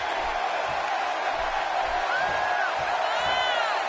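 Steady arena crowd buzz before a WWE World Championship match in WWE 2K18, a constant wash of murmur with faint whoops and whistles rising over it, under commentary.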